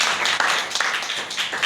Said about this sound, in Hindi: मॉर्निंग के लिए जोरदार ताली।